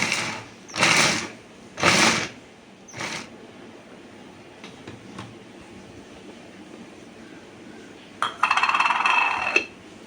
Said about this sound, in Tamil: இந்த மாதிரி வந்து பீட்ரூட்டை இதில் போட்டுன்ட்டு இப்போ நான் இதோட மோட்டரை வந்து மேலே வச்சாச்சு